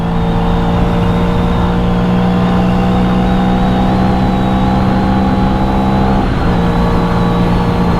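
Bajaj Freedom 125 CNG-and-petrol motorcycle accelerating hard on a road during a mileage test: a loud, steady engine drone with wind rush throughout, its pitch dipping briefly near the end.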